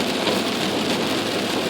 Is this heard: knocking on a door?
no